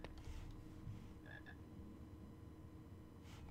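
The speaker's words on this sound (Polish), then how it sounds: "Jest kolejna żaba, także spoko." A frog croaks in the Harry Potter and the Philosopher's Stone video game: a quiet, brief pair of croaks in the middle, set against a faint, steady in-game ambience with no talking.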